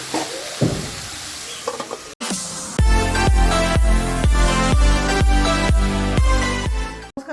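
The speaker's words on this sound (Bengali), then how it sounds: "কাঁচা লঙ্কা এবার ভেজে দিচ্ছি" Green chillies frying in a pan for a vegetarian ridge gourd and poppy seed dish, with a hiss that gives way to loud, steady sizzling broken by repeated stirring scrapes.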